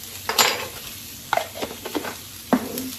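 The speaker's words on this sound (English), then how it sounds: "we're just going to saute these peppers and onions" Peppers and onions sautéing in garlic butter in a pan, with a few sharp stirring scrapes and clinks over a soft, steady sizzle, close and moderately loud.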